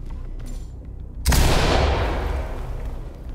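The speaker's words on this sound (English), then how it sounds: "I'm gonna get another flashbang in there" A flashbang bursts in the tactical shooter Ready or Not, one sudden loud bang right after a quiet moment, followed by a ringing wash of noise that slowly fades.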